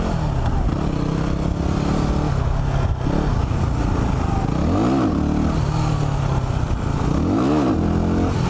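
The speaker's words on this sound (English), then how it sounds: "I'm gonna see if I can wheelie his bike." A sportbike engine revs hard during a wheelie attempt, a loud close idle broken by two sharp rising-and-falling throttle blips with a rough mechanical rumble throughout.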